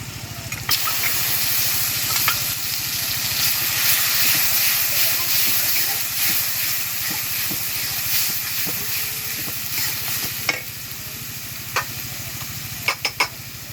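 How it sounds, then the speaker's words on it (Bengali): Onions frying to light brown in a pan on a village clay stove, just before mustard paste and garlic paste are added: a steady, close hiss and sizzle with occasional stirring scrapes and a few sharp clinks near the end. "আমার পেঁয়াজ ভাজা হয়ে গেছে লাল লাল করে দেখেন হালকা বাদামি কালার করে ভাজছি আমি"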